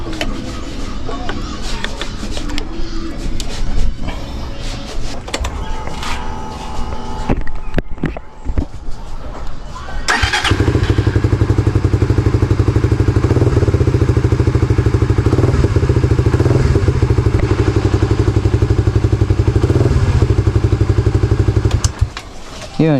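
A Suzuki Raider 150 FI motorcycle fitted with a new spark plug fires up about halfway through after some earlier clattering handling noises, then idles loudly and steadily right up close until the end.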